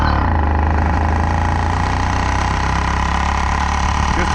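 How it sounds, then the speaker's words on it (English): A motorized bicycle's small engine, a weekend cruiser bike, idles steadily while warming up, its loud, close, constant drone carrying faint irregular pops. "If you notice that popping and stuff you hear, that's it getting to where the heat's warmed up"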